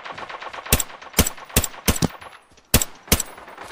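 An M16 rifle fires in Arena Breakout in close, sharp single shots and short bursts, about seven loud cracks spread unevenly with quiet gaps between them.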